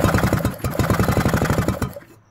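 A Vire 7 engine, with no fuel in it and its spark plug resting on top, turned over by hand, giving a rapid, even run of close, loud mechanical clatters for about two seconds before fading out.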